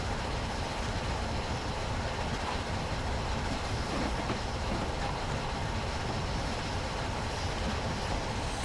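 The Flying Scotsman steam train runs on the London to Brighton line, and a steady rumbling roar of wheels and carriages holds throughout as it gathers speed. Faint clickety-clack sounds through the noise, and there is no talk.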